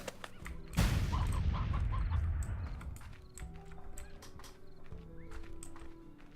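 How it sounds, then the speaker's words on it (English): In the video game Slime Rancher, a loud burst of noise gives way to a series of quick clucks from a chicken or hen, followed by scattered clicks and soft tones of game sounds. "Was that a rooster or was that a briar hen?"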